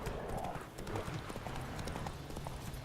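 Horse hooves galloping in The Witcher 3: Wild Hunt, a steady fast clip-clop rhythm running for about three seconds under a busy game soundscape.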